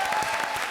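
A studio audience on a comedy show claps in a dense burst of applause, loud and steady throughout the brief moment.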